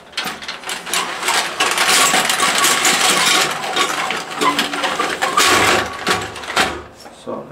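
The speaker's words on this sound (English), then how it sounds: "We're going to be using the rigid auger 6 foot." A Ridgid 6-foot toilet auger feeds into a clogged toilet, making loud rattling, clicking and scraping bursts as the cable is cranked, with brief pauses between them.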